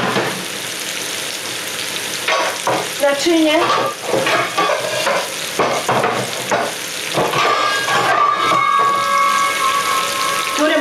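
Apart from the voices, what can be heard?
leek stewing and sizzling in a pot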